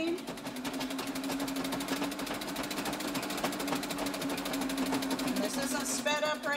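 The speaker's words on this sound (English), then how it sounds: "This is how fast I sew, locking it down on the end." Treadle sewing machine stitching fabric squares for a patchwork skirt, a fast, even rapid-fire clatter of needle strokes running continuously, close and fairly loud, with a brief pause and restart near the end.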